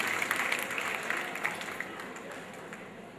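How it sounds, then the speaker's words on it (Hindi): Audience applause honoring performers at a Shravan festival program at the Mahakaleshwar temple, a sustained patter of many hands clapping that slowly fades, with a voice faintly underneath. "तालियों का क्रम जारी रखें"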